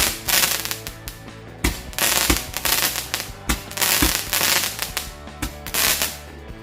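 Strings of firecrackers go off outdoors during Indonesian Independence Day celebrations in August, a loud, dense, continuous crackle of rapid bangs with occasional sharper heavier pops throughout.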